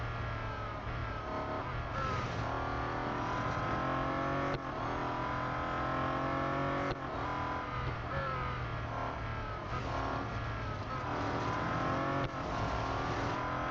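A Bentley Continental GT Speed races in the mobile game Real Racing 3, its engine droning and revving continuously through gear changes, fairly quiet and steady with brief dips at each shift.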